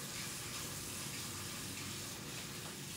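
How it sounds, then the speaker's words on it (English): Hands washed under a running kitchen tap, a steady close rush of water splashing without pause. "I'm gonna wash my hands again"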